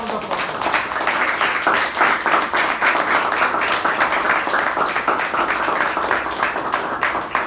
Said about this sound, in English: Toastmaster Sai Snehal Reddy, let's give him a thunderous round of applause.